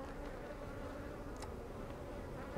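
A steady, soft drone of many honey bees buzzing together close by at an open hive, with a brief faint click partway through.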